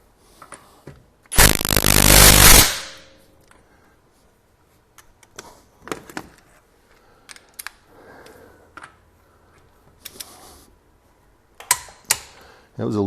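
A cordless 1/2-inch impact wrench hammers on a nut in one loud, rattling burst of about a second, followed by scattered clicks, scrapes and handling noises.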